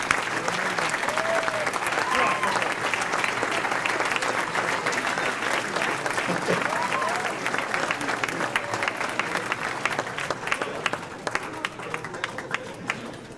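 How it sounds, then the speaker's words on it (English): Sustained audience applause fills the room for an honoree receiving the 2013 Phenomenal Man of the Year award after his acceptance speech, steady dense clapping from a large crowd that thins slightly toward the end. "One more round of applause for Mr. TODD Smith, Phenomenal Man of the Year."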